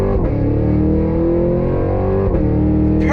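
A 2023 Cadillac Escalade-V holds a loud, steady engine drone during a launch-control start, then the pitch drops briefly as a gear shift comes near the end.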